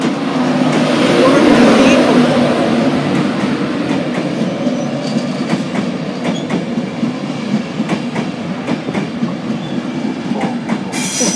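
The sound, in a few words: Class 91 train 91114 arriving at Doncaster station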